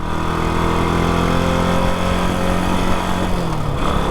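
A Moto Guzzi Stornello motorcycle, a small single-cylinder bike of around 160cc, its engine running steadily and loudly nearby with a constant droning hum, the pitch easing slightly near the end.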